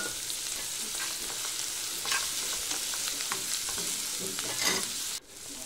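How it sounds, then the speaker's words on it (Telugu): Onions, green chillies and curry leaves frying in hot oil in a pan, a steady close sizzle with scattered crackles and stirring scrapes, which cuts off abruptly near the end. "ఆయిల్ హీట్ అయ్యాక ఆనియన్స్, పచ్చిమిర్చి, కర్రీ లీవ్స్,"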